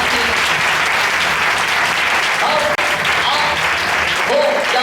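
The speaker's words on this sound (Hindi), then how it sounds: "मसीह के लिए ताली बजाएं।" A church congregation claps for Christ during a Hindi Christian service, a dense and steady wash of applause that fills the room for several seconds, with faint voices mixed in.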